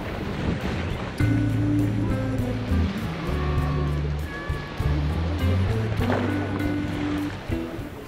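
Waves wash over a pebble beach below crumbling chalk cliffs near Fécamp in Normandy, a close, continuous rush and rattle of stones with gusts of wind on the microphone and no voices.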